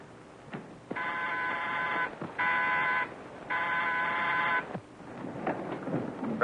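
A 1934-era telephone gives three steady, buzzing electronic tones, each about a second long with short gaps between, set against faint background hiss and a few soft clicks before and after.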